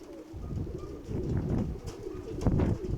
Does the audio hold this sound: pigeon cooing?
yes